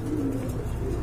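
Pigeons of a chocolate-coloured pair coo in a low, throaty murmur, close by and continuous through a brief moment.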